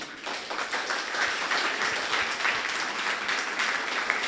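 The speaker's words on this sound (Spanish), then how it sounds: "Le damos un aplauso fuerte al Señor." A church congregation gives a loud round of applause, a dense, continuous patter of many clapping hands that swells slightly and holds steady throughout without speech.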